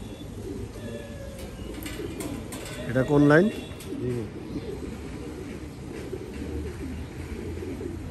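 Pigeons in a racing loft give soft, low cooing amid general bird chatter, with one louder burst of coos near the middle while someone speaks briefly in the foreground.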